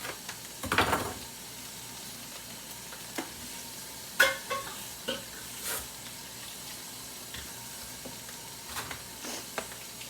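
Thin steak sandwich meat fries in a pan under a low, steady sizzle, broken by scattered clacks and scrapes of a utensil stirring, with one louder clatter early on.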